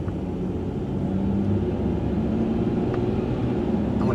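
Interior drone of a 1995 Chevrolet Monte Carlo LS while driving, a steady low engine and road rumble with a subtle shift in engine tone partway through, no talking.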